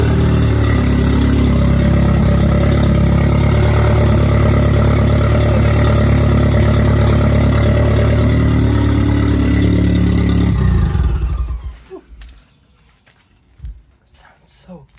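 A 1987 Nissan 200SX S12 Silvia drift car idling close by, its engine a loud, steady low rumble that cuts off abruptly. A few faint knocks and a brief voice follow in the quiet.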